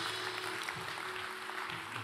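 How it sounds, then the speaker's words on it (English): Church congregation applauding in a steady, diffuse wash of clapping at moderate level, continuous through the moment with a faint hum underneath and no clear talk. "Come on, applaud the Lord that he's overcome in your life."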